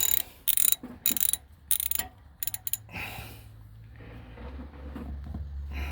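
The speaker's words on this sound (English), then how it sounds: "I got my favorite oil filter wrench." An oil filter wrench works on a Husqvarna YTH18542 riding lawnmower's oil filter, giving several sharp ratcheting bursts close by, followed by quieter scraping and handling noises.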